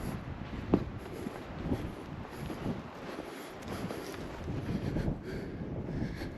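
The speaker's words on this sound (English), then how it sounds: "You can hear the wind. It's picking up." Gusty wind buffets and rushes in a broad, noisy wash, rising and falling softly with no talking.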